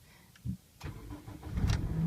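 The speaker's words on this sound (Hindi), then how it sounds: "तो देखिए हमारी गाड़ी जो है वो स्टार्ट हो गई है।" A car engine cranks and catches after the key is turned, a few clicks and a short starter whir giving way to a rising, steady engine rumble close by.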